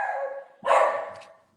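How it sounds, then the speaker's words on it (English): A pet dog gives a drawn-out whine or yip, followed by a single louder bark and then a fading whimper, heard fairly close in a quiet room. "That is my dog."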